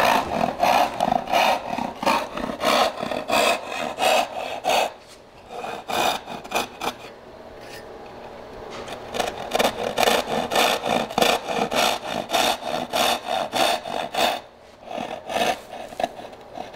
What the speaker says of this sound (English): I'll use my crosscut saw on that.